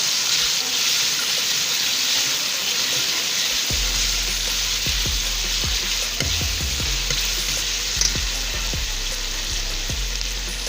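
Two medium, finely chopped tomatoes hit a hot pan for a chicken feet curry, setting off a loud, steady sizzle, with scraping and stirring thumps in the second half and no talking.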